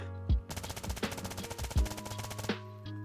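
Rapid automatic fire from a 9x39mm rifle in DayZ, in sustained bursts with sharp repeated cracks and brief pauses between them, loud and close.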